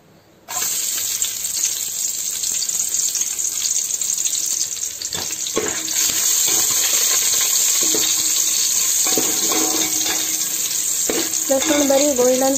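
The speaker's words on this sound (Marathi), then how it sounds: "एक तोप घेयात आणि तोपान थोडे तेल घालून भितून लसूण फ्राय करून घेयात" Garlic frying in oil in a pot on a stove, with a steady loud sizzle throughout, and occasional stirring clinks and splashes near the end.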